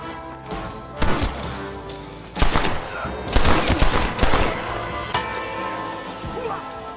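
Gunfire in the video game Red Dead Redemption, several sharp cracking shots and a burst of rapid fire with booming echoes, mixed with game sounds and character speech.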